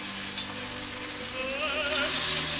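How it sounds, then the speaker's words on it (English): Burrata-stuffed zucchini flowers dropped into hot oil set off a loud, steady crackling sizzle that carries on close and unbroken for the whole stretch, with no talking. "Okay, now we're going to drop them in the oil. And that's a nice sound right there. It's what you want to hear. The oil's nice and hot."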